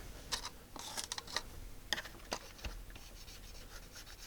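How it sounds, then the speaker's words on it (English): Filing stuck parts on the keyboard of an Atari 65XE computer, heard as several short, faint scratching and rubbing strokes at close range, spread irregularly across a quiet background. "So I just loosened up whatever was stuck on the top with the file."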